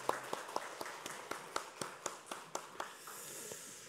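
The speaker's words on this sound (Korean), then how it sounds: "우리 감사의 박수 한번 하시죠" Hands clap in a church worship service, sharp distinct claps in a fairly quick, even rhythm, close and moderately loud, fading toward the end.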